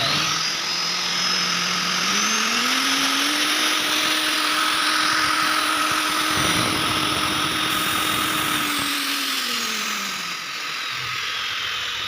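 A repaired small motor is started and run for a test, whining steadily at a high pitch that rises, holds for several seconds, then dips near the end, loud and close with no speech.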